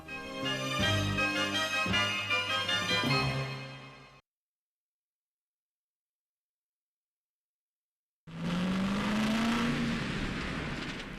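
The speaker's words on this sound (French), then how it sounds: "une voiture américaine qui accélère de façon suspecte" An American car accelerating on a road near a small bridge, a loud rising engine roar that cuts to total silence, then returns as a whooshing surge with a climbing whine.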